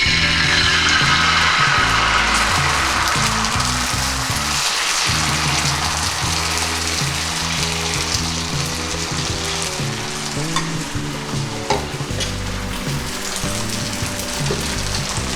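Beetroot dosa batter, made like a rava dosa, is poured in circles onto a hot griddle and sizzles steadily, a continuous loud frying crackle with small scraping and tapping sounds from the cooking.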